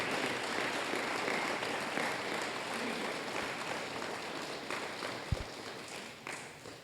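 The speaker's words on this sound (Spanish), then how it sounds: "Démosle un aplauso al Señor, hermano." A church congregation applauds during a thanksgiving service, a steady wash of clapping that fills the whole stretch at an even level, thinning slightly toward the end, with one sharp knock partway through.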